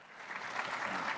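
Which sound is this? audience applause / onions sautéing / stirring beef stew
audience applause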